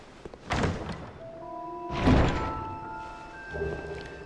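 Treasure chest opening in Dark Souls 2, a heavy wooden thunk followed by a deeper thud and lingering chime-like tones, fairly quiet.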